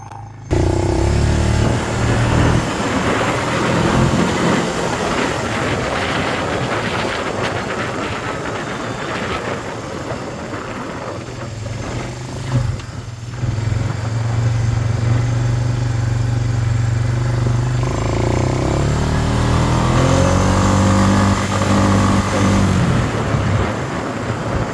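A Suzuki engine, its fuel system flooded with gas, runs loud and steady close by, revving up in rising sweeps and settling back, with a slight knock under the drone.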